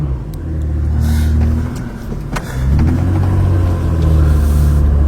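A black car drives past on a suburban street near Burbank Boulevard, a loud, close engine rumble that swells, dips briefly and builds again as the car moves by, with no speech.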